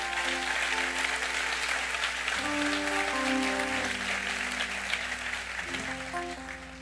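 A church congregation applauds steadily in a dense, continuous wave of clapping. Sustained musical chords play underneath, and the clapping eases slightly toward the end.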